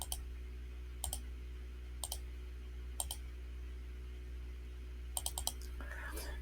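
Computer mouse clicks sound as sharp, quiet single and double clicks at irregular intervals over a steady low hum, while software sequences are scrolled and dragged into place.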